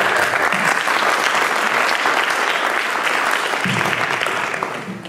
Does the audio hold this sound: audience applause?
yes